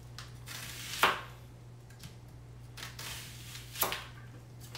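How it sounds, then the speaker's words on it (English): Knife slicing a standing onion thin on a cutting board, a few sharp crisp cuts spaced about a second or more apart, fairly quiet against a steady low hum. "I'm gonna stand my onion up and I'm gonna slice it thin."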